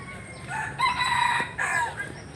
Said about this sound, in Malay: Ayam lah